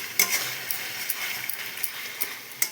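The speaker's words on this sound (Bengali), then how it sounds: "হলুদটা দিয়ে আমি মশলাটাকে আরও সুন্দর করে কষিয়ে নিচ্ছি" Spice masala with turmeric is fried for chicken, a soft bright sizzle under sharp ladle taps and scrapes against the pan, close and steady.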